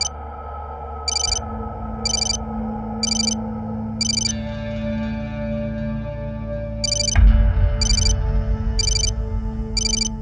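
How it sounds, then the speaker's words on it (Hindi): A telephone rings in repeated short electronic bursts over a steady background hum, with a louder, busier stretch of sound near the end. "अनीता, तुम्हारा फोन।"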